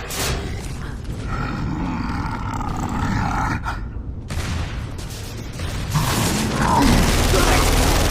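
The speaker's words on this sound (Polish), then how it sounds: "teraz udało mi się zdobyć ciężkiego minigana" Heavy minigun fire in the multiplayer beta of the video game Gears of War 3: a dense, continuous mechanical roar with whirring and rattling that builds louder toward the end, with no talk.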